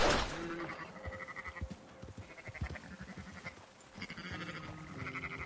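A herd of sheep in Red Dead Redemption 2 bleats over and over in overlapping calls, close and fairly loud, with soft hoof and movement noise underneath.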